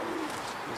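Racing pigeons cooing softly on their return to the loft after a club race flight, a faint low murmur under steady background noise.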